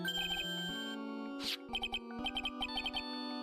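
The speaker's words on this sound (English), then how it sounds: "Sorry, that's my phone." A phone ringtone plays during a game stream, a bright electronic melody of rapid repeated tonal notes at steady moderate volume with short pauses, heard alone without talk.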